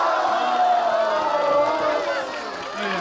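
A lively crowd of guests at a party clamors and whoops together, urging a reluctant woman to come up and sing; many overlapping voices shout and cheer continuously at close range.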